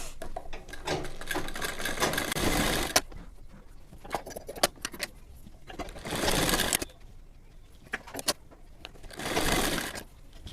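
A sewing machine stitches dori piping onto a pack belt in bursts: three loud runs of rapid mechanical whirring, separated by quieter pauses with clicks and handling noise, close by with no talk.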